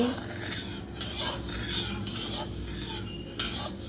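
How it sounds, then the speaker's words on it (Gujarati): Milk being stirred in a pan while making danedar mawa, continuous close scraping of a metal spoon against the pan with a faint sizzle underneath. "તરત દૂધને હલાવતા રહેવાનું છે"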